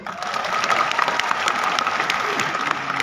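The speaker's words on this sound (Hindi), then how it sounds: "जोरदार तालियां हो जाए" Audience at a social media growth conclave in Talkatora Stadium breaking into loud, dense applause that holds steady and continuous, filling the hall throughout.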